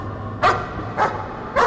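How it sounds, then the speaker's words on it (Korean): A dog barks three times in the VR horror game Layers of Fear on Oculus Quest 2, sharp, evenly spaced woofs about half a second apart, close and loud over a low background hum. "강아지 소리."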